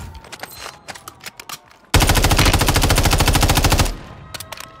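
Warzone 2.0 automatic weapon firing in a loud, rapid unbroken burst of about two seconds, after scattered lighter clicks and handling noises in the game.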